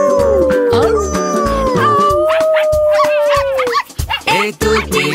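Cartoon dog barking, howling and yipping in an animated Italian nursery rhyme about five little puppies, loud tonal howls sliding over music, followed by a burst of short sharp yips near the end.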